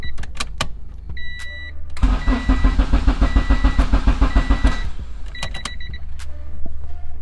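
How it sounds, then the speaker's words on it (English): Car starter cranking for about three seconds, rhythmic churning pulses that never catch, with a faulty kill-switch setup and blown fuse; dashboard chimes and clicks come before and after, heard up close from inside the car. "tries to start the car again"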